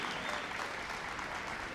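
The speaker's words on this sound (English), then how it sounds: "Super round of applause" Crowd applause fills the arena at the Crufts 2016 dog show during Utility Group judging, a steady dense wash of clapping from a large audience with no voices heard.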